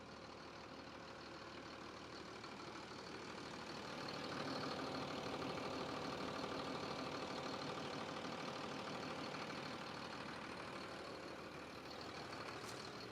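A steady engine hum and low rumble heard from inside the cabin of a 140-horsepower machine, continuous and unchanging for the whole stretch, with no voices.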